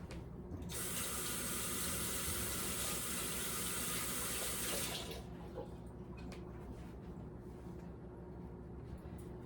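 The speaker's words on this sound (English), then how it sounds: "I'm gonna rinse my hands really quick" Hands rinsed under a running kitchen tap, a steady loud rush of water that cuts off after about five seconds, leaving quieter room noise.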